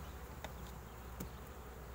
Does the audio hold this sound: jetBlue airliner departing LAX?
no